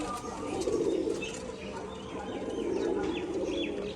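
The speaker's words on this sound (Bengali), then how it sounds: "তো পায়রাটা দেখুন" Rajshahi pigeons coo in a soft, steady rolling murmur that swells twice over a few seconds, close by and with faint chirps and a bit of background noise around them.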